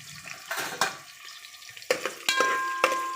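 Onions frying in oil in a pan for chicken curry, with sizzling and several sharp stirring scrapes and clanks against the pan, close and fairly loud, with no voices.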